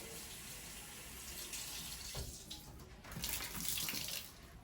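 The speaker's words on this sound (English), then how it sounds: "Give me some water on here, get this wet." Tap water splashing onto a cleaning rag in a bathroom, wetting it for toilet cleaning; a steady close hiss of running water that swells louder toward the end.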